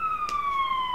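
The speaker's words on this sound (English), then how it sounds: "You hear them sirens?" Emergency vehicle sirens wailing at a steady pitch, slowly falling, with a second higher tone layered above and a brief noisy burst partway through, fairly loud and alone without talk.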